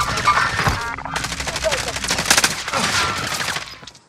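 Bursts of rapid automatic gunfire from a FARA 83 and other weapons in the video game Call of Duty Cold War crackle in quick volleys, with players talking over the shooting.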